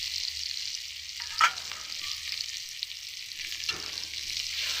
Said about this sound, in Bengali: ভালো করে এবার আদাটা আমি ভেজে নেব